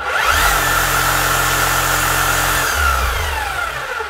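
A Makita HR0870C rotary hammer runs loud and steady in a workshop, a continuous motor whine with dense harmonic buzz that shifts pitch briefly near the end, with no talking over it.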